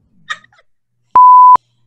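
A single steady electronic beep sounds clearly and alone for about half a second, following a brief faint vocal sound.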